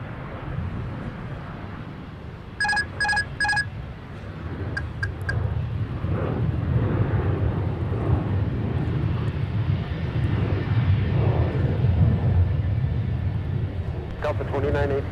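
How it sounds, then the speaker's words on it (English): UPS Boeing 747 landing on runway 30 left at Minneapolis–Saint Paul airport, a broad steady jet engine roar that swells and holds, with a short electronic beeping early on and faint distant voices. "The Queen of the Skies is here next up to land on runway 30 left from Louisville, Kentucky, UPS 2568"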